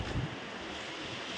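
Surf on the sea at New Digha beach rushes in a broad, steady wash, with wind buffeting the microphone, brief and fairly loud.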